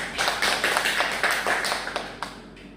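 A short round of hand clapping from a small group in a classroom, brisk and close at first, then thinning out to a few scattered claps before stopping.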